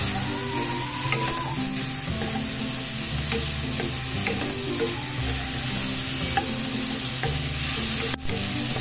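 Tomatoes and other vegetables sauté in a pan for sinigang with a continuous close sizzle and frequent scraping stir strokes, a few sharp clicks scattered throughout, and no voices.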